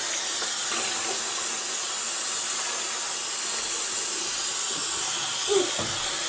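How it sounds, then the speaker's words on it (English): Water running steadily as coffee-dyed yarn is rinsed, a constant close hiss of flowing water with a few faint splashes and handling noises. "But we'll start rinsing before we add any soap."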